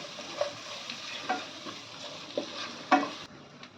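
Spices being stirred in hot oil in a frying pan: turmeric, cumin and Kashmiri chili powder for sago khichdi. Soft scrapes and taps recur every second or so over a gentle, continuous sizzle, with no speech.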